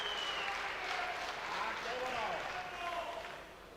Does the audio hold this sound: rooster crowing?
no